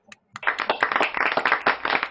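Audience applause after a Christian melody song at a music college session, a dense burst of clapping starting abruptly after a couple of isolated claps and continuing steadily.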